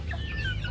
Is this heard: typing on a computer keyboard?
no